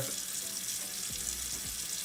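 Tap water running into a sink while a face is splashed and wetted during a skincare routine, a steady close rush with a couple of brief splashy dips.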